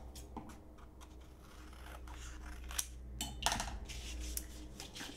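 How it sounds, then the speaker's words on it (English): Scissors snip repeatedly through paper at close range, a series of short crisp cuts over a low steady background hum. "now we'll take your scissors and cut along the black"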